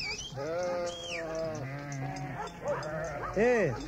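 Sheep bleat over and over at a watering trough, several wavering calls overlapping with people talking throughout, ending in a louder, closer bleat.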